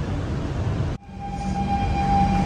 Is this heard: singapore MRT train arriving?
yes